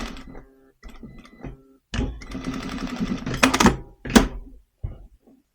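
A sewing machine stitches over a plastic zipper in short separate bursts of whirring, a few brief runs and then a longer run, with pauses between them.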